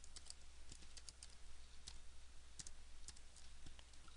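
Keys on a computer keyboard are typed in quick, uneven bursts of light clicks, quiet and close against a steady low hum.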